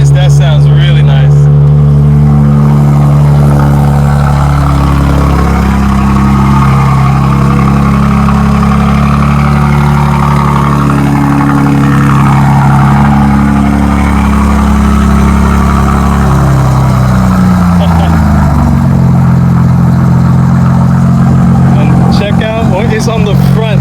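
A 2025 BMW M4 CS with an aftermarket exhaust, valves open and in M1 mode, revs loudly and deeply up close, rising and settling back through a rumbling idle.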